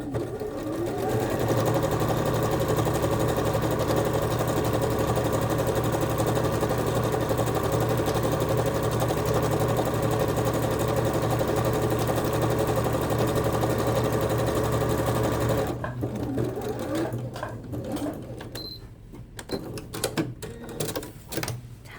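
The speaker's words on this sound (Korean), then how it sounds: "마찬가지 얘도 박음질을 해줍니다." A sewing machine stitches pintucks along chalk-marked folds in fabric, running steadily and loudly for about fifteen seconds before stopping, followed by fainter handling noises.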